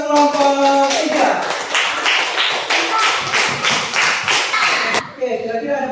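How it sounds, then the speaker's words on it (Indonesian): A classroom of students claps for a presenting group, a burst of rapid applause that fades after several seconds, with a teacher's voice heard before and after. "beri aplaus untuk kelompok 3"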